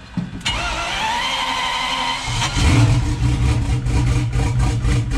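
A Citroën Traction fitted with a V12 bi-turbo engine cranks with a whirring starter, then catches and settles into a deep, uneven idle, recorded up close.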